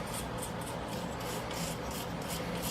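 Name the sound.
rubbing beeswax onto forged concrete-nail hooks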